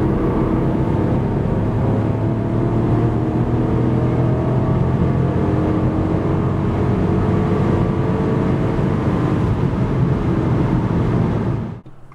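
A Ford Puma 1.0 EcoBoost three-cylinder petrol engine pulls hard under acceleration, a steady gravelly drone that holds loud and close for about twelve seconds before cutting off.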